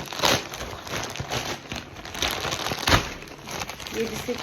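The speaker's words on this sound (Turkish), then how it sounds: "Kartonu sizinle birlikte açalım istedim." Cardboard carton of Koton summer T-shirts and children's clothing being opened, giving bursts of crinkling, rustling and crackling at close range, with someone talking at times.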